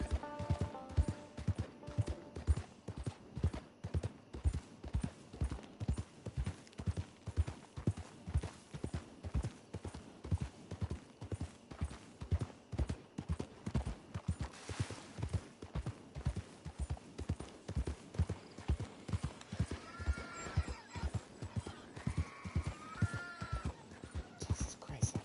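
Hooves of a horse in Red Dead Redemption 2 clip-clop in a steady rapid rhythm throughout, with brief game noises and a faint neigh near the end.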